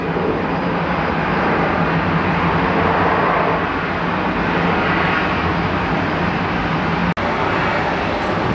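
A steady, broad engine roar of a passing airliner inbound to DFW from Birmingham fills the whole stretch at constant loudness, with a brief sharp click near the end.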